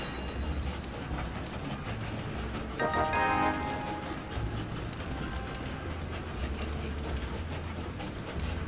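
Trains in the Train Valley video game roll along with a steady rumbling clickety-clack, loud and continuous, with a brief brighter mechanical burst partway through and no talking.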